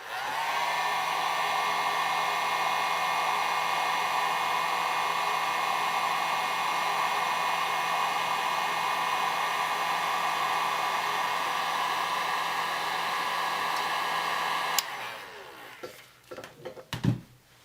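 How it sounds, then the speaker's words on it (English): Heat gun blowing hot air steadily and loudly for about fifteen seconds while warming a painted tumbler cup, then cutting off, followed by a few faint handling knocks. "I'm going to go around one more time with my heat gun and just really quickly warm it up."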